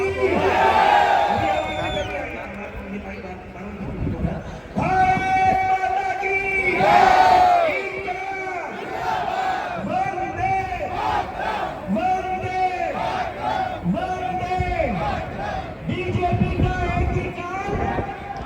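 A crowd at an Aam Aadmi Party rally in Hari Nagar shouts slogans in call-and-response bursts, loud massed voices rising and falling in repeated waves, each answering a leader's call over a noisy outdoor setting.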